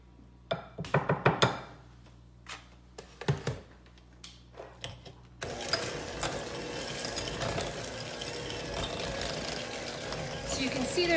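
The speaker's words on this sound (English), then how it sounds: "I am going to turn on the hand mixer here, just to get it all blended through in a more efficient way" An electric hand mixer starts up partway through and whirs steadily through keto cookie dough of cream cheese and butter, following a few scattered clicks and knocks and some brief speech.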